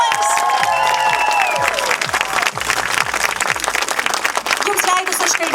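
Loud applause from a puppet theatre festival audience in Lithuania welcoming guests, dense close clapping with cheering and voices, rhythmic clap bursts running throughout.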